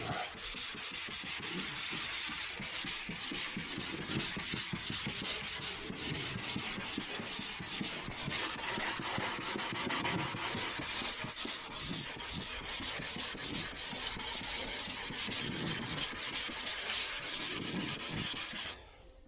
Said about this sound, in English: got a block with 180 and you just want to go over it like that